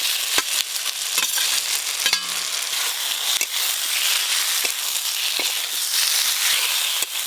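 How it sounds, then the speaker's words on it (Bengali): Fried potato and bitter gourd pieces tumble into a hot pan of spiced paste and sizzle steadily while a spatula scrapes and stirs them with sharp clicks and knocks. "এবার ভেজে রাখা আলু করলা একসাথে দিয়ে দেবো।"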